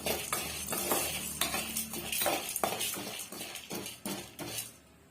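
Chana dal being stirred and roasted in a pan over a medium flame for garlic podi, a spoon scraping and clinking in repeated strokes over a faint sizzle.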